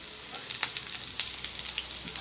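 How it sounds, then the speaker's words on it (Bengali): Chopped onion and tomato frying in oil in a pan, a steady close hiss of sizzling with faint crackles and stirring scrapes throughout. "খুব ভালোভাবে একসঙ্গে ভেজে নেব।"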